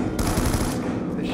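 Shotgun fire in a video game, a dense, loud burst of blasts packed tightly together and sounding close, with no talk over it.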